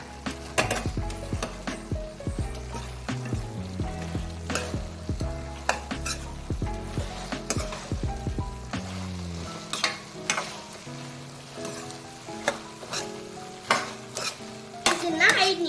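A spoon stirs crispy fried cauliflower (dry gobi) into Manchurian sauce in a hot pan, giving repeated close scrapes and clinks over a soft sizzle. The stirring is steady and continuous, with no talking.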